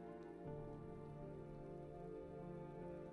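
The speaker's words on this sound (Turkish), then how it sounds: "Let's wait out the rain in the booth." Steady rain falling in the video game Road 96, an even, soft hiss of drops under a low sustained musical drone, faint and unbroken.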